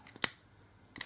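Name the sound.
scissors cutting off excess material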